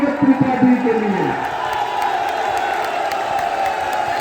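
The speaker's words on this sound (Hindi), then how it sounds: "नीरज जोर से ताली बजाइए नीरज त्रिपाठी के लिए।" Crowd at a political rally in Prayagraj clapping and cheering for candidate Neeraj Tripathi, a broad sustained roar with whoops, starting under a brief loud voice and then continuing on its own.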